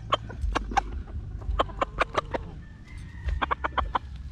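Red broodcock chickens and a rooster at a backyard poultry farm cluck in quick bursts of sharp calls, several birds close by with a low rumble of background noise.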